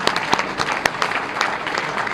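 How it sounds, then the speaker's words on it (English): Brief applause from dinner guests for Jim and the volunteers at an NAACP awards dinner, a steady moderate patter of clapping with a few louder claps standing out. "A big round of applause for Jim and all the great volunteers"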